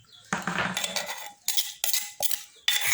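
Old ceramic plates clinking and scraping against each other as they are handled in a home kitchen, several sharp separate knocks and clatters close by, with no talk over them.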